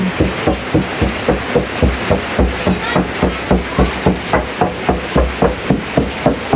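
A green papaya salad being pounded with a pestle in a mortar at an outdoor spot in the rain: steady, rapid, close thuds at an even rhythm of roughly three to four strikes per second, loud and continuous.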